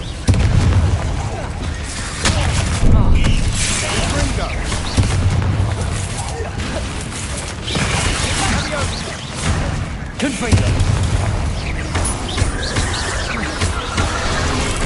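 Spell blasts from Bombarda and Confringo in Hogwarts Legacy go off as a run of repeated booming explosions with deep low thumps, several distinct hits spread across the stretch amid dense game noise.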